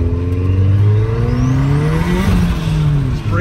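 A turbocharged 1995 Honda del Sol Si accelerates hard, its engine note rising steadily in pitch as the wheels break loose, loud and close from start to finish.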